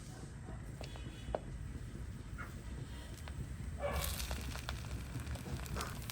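Garlic, green chilli and curry leaves fry in hot sesame oil, giving a steady close crackling sizzle that swells louder partway through as the aromatics hit the pan.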